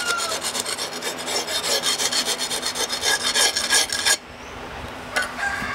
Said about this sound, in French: Faut être léger du coup de lime, hein.